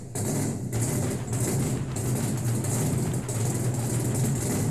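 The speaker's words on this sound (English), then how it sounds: "you hear that? That's the sound of real horsepower" A loud car engine at a car show roars and revs in a sustained, heavy rumble close by, with slight surges in intensity and no talking.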